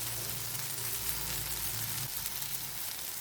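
Ivy gourd stir-frying in a pan with a steady, close sizzle and crackle of oil running evenly throughout, with a faint low hum underneath.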